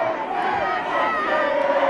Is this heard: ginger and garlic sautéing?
no